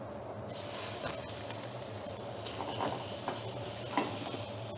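Steak sizzling and frying in a hot, lightly oiled pan, a steady close hiss with occasional crackles and spits, no talking.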